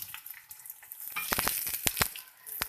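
Besan roti cooking in ghee in a pan gives a soft, steady sizzle with scattered crackles and a few sharper pops in the second half, close and quiet.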